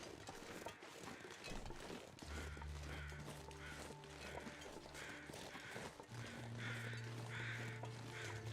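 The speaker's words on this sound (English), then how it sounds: "we hear the crows" Crows cawing around a carcass in the survival game The Long Dark, harsh calls rising at intervals over a steady wind-like ambience with low droning tones.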